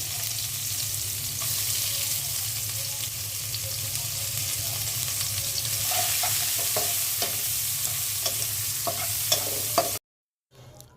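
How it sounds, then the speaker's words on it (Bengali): Sliced onion sizzles loudly in hot mustard oil left from frying aile fish in a frying pan, a steady crackle with scattered utensil scrapes and taps, ending abruptly in near silence. "মাছ ভাজা তেলের মধ্যে পেঁয়াজ দিয়ে দিচ্ছি।"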